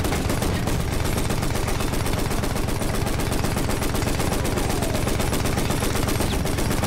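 Battlefield 1 battle gunfire, a dense, unbroken roar of rapid machine-gun shots and overlapping rifle fire, loud and close throughout.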